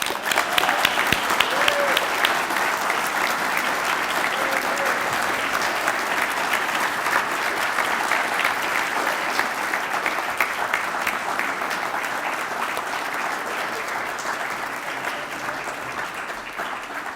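Sustained applause from an audience at an awards event honoring a volunteer of the year, steady dense clapping filling the room without letup for a long stretch.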